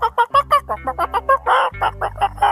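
A person imitates a hen with a rapid series of loud, rhythmic clucks, close and clear, about a dozen bursts with no other talk.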